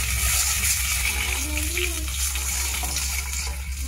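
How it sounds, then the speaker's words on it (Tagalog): Water pouring into a cooking pot for a home-cooked papaya and sardine dish, a steady loud gushing splash that runs unbroken through the whole stretch, close by, with faint speech underneath. "So bibigyan po natin ng tubig."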